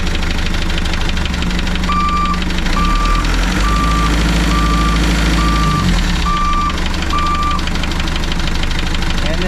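A rusty project car's rebuilt transmission is shifted into reverse at idle, setting off a steady series of about seven loud reversing beeps over the continuous rumble of the running engine.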